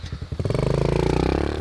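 A motocross motorcycle on a closed dirt practice track fires up, a few uneven pops settling into a loud, steady, rapid-pulsing idle close by.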